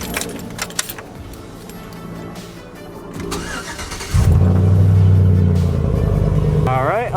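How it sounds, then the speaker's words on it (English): Faint clicks and shuffling, then a Chevrolet Silverado pickup engine cranks on a cold start and catches with a loud burst, settling into a steady rumbling idle that briefly revs near the end. "I'm gonna turn the truck on anyways so you guys can get a cold start."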